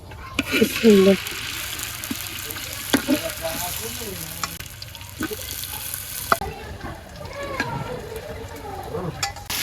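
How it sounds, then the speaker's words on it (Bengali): Fish frying in oil in a pan, with a steady close sizzle and intermittent stirring and scraping, while a person talks over it at times. "একেবারে লাল লাল করে ভাজিয়ে নিছি"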